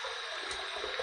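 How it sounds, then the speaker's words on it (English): Hot water runs steadily from a tap for shaving prep, a continuous close splashing rush with no voices. "Gonna put on some hot water"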